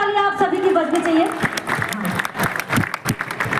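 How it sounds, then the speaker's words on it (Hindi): An audience at a Gyaan Ganga festival gathering breaks into loud applause. A voice speaks briefly, and then the dense clapping swells and carries on beneath him. "जोरदार तालियां आप सभी की बजनी चाहिए।"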